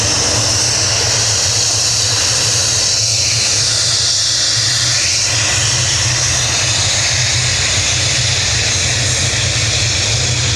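Dubai Air Wing Boeing 747 freighter engines at Dublin airport, a loud continuous roar with a broad hissing whine and low rumble, steady throughout with no pauses.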